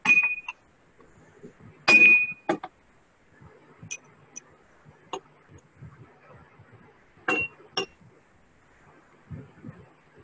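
Betadine water being poured and shared among three drinking glasses, with several bright glass clinks and rings spread out between quieter pouring and handling sounds, close by.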